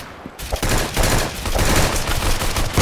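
Gunfire in a Roblox game, a rapid run of sharp shots in quick bursts after a brief quiet start.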